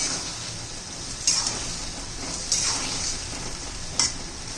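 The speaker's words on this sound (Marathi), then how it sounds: "चांगलं एक दोन मिनटं परतून घेऊया" Spicy eggplant and potato masala stir-fried in a pan: a steady hiss of frying with three distinct spatula scrapes spaced about a second apart, close and fairly loud.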